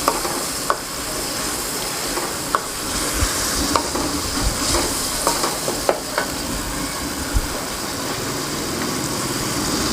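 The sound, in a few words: garlic ginger paste frying and stirred in pan for keema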